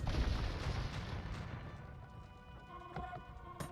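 Bombard cannons fire in a strategy video game battle: a loud, dense burst of booming blasts at the start that thins into rumbling battle noise with a few sharper reports near the end.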